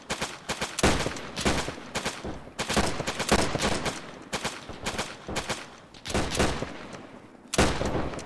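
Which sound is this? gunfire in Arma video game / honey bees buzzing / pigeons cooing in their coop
gunfire in Arma video game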